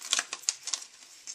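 Scissors snip out a paper card shape for a gate fold window card, a quick run of crisp, close cuts and rustles at a low level with no talking.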